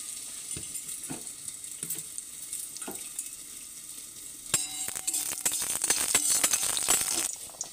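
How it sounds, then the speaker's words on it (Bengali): Five-spice seeds and dry chillies hit hot oil in a wok with scattered pops and crackles, then break into a louder, dense sizzle and spatter. "এর মধ্যে আমি 5 ফোড়ন আর শুকনো লঙ্কা দেবো"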